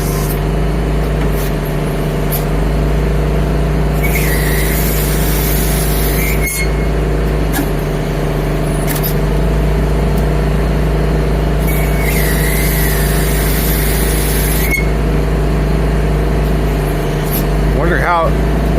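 A boom truck's engine droning loudly and steadily as it is revved to run the boom, with hiss bursts and a voice talking over it.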